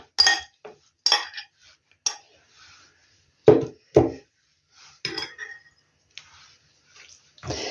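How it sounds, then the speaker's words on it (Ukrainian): A spoon clinks and scrapes against a bowl in short bursts with pauses between, close by, as thick pancake batter with cherries and cottage cheese is stirred. "Тепер візьму ложку і далі вже буду ложкою."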